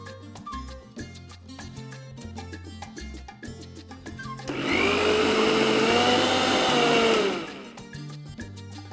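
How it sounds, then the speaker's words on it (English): A mixer grinder with a mixie jar grinds cooled roasted bottle masala into powder, a loud steady whirring motor that runs for about three seconds between spells of background music. "ये अभी ठंडा हो गया है तो हम लोग ग्राइंड के लिए उसको लेते हैं इन अ मिक्सी जार"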